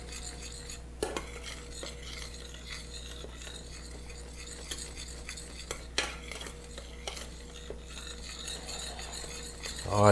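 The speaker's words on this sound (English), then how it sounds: "Just keep stirring." A spoon stirs boiling chocolate soufflé mixture in a pot, with soft repeated scraping and occasional light clinks against the metal under a low steady bubbling hum, close and quiet.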